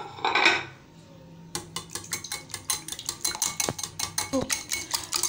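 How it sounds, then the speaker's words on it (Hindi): Spoon clinking quickly and rhythmically against a bowl while a spice mix for a carrot omelette is stirred, a run of sharp close metallic taps after a short rustle. "ये देखिए अब इसको मिक्स कर लें पहले।"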